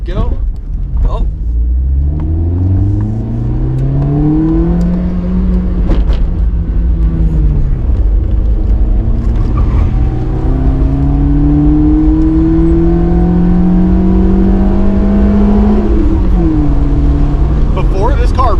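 A car with a homemade twin loop muffler exhaust revs up through long rising engine sweeps, loud and close, with a deep rumbling drone between pulls and a voice speaking over it.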